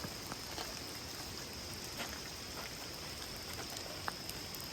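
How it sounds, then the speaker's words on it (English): Steady, heavy rain pours outside a trail shelter on the Appalachian Trail in Pennsylvania, a continuous even hiss of drops with occasional louder splats, no voices. "It's been pouring rain all night."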